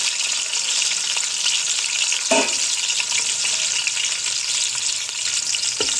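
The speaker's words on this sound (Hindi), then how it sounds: "मैंने 2 चमचे घी के लिए हैं और 1 अदद प्याज लिया है, वो शामिल करूँगी और 3 से 4 मिनट दूँगी ताकि प्याज जो है लाइट से ब्राउन हो जाएं" Onion frying in ghee in a pan, a steady close hiss and crackle throughout, with a couple of brief stirring clinks and no voices.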